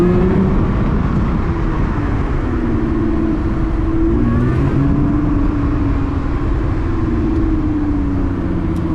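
A Lotus 3-Eleven accelerates hard through city streets in Eindhoven, its engine roaring loud and close with rising, shifting tones and a constant whir and road rumble, no voices.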